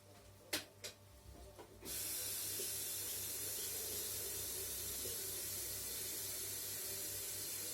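Tap water runs into a kettle or pot to be heated for herbal tea, starting as a steady close hiss after a few faint knocks and continuing evenly to the end.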